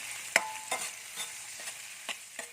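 Garlic, onion and chili sautéing in a pan give a faint steady sizzle, punctuated by several sharp clicks and scrapes of stirring, quiet and with no voices.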